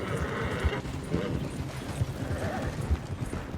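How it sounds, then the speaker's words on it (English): A horse's hooves clip-clop steadily in a first-person video game, ridden at a walk over a background of ambient game noise, moderately loud with no talking. "First person on the horse."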